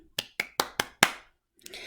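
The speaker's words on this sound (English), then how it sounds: "clapping." Five sharp hand claps of body percussion land close and evenly spaced, followed by a pause and a faint, brief rustle.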